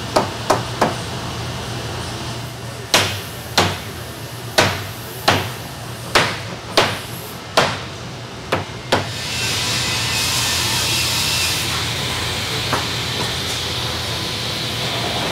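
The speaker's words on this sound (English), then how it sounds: "Once the door's in the clamp machine," Door clamp machine in a door-building workshop, clamping a door assembled with stiles and rails: a run of sharp, loud mechanical knocks at irregular intervals, then a steady hiss of air that continues to the end.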